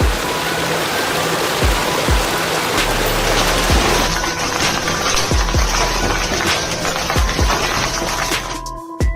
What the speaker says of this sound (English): Hailstones the size of lemons smashing down like they own the place.